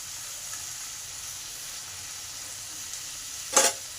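Chopped carrot and beans sizzle faintly and steadily in a pan for fish roe momo, with one brief louder stir or clatter near the end and no talking.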